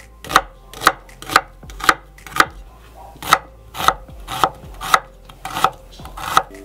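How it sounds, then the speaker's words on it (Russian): A knife finely dices onion on a cutting board in steady, evenly spaced strikes, about two per second, crisp and close with no talking. "Также понадобится 2 луковицы. Нарезаем кубиком мелко."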